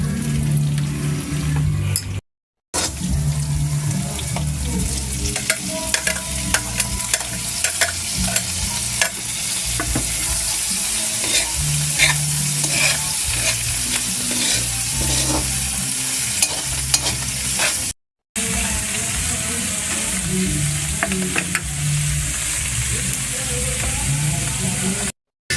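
Carbonara cooks in a pan on a home stove with steady frying and sizzling and repeated stirring and scraping, loud and close. Brief water sounds and a little background voice come through.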